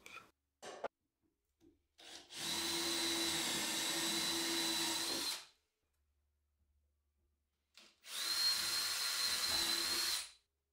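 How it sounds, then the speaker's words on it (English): A power drill whirs loudly through whisky barrel stave wood in two sustained bursts of about three seconds each, drilling holes for brass inserts, separated by quiet pauses and a few small clicks. "I'm going to drill some holes and put some of those brass inserts in"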